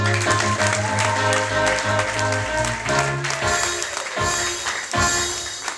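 A church congregation claps loudly together in a sustained, roomy burst of applause, with music playing under it. The clapping thins into a few distinct rhythmic claps toward the end.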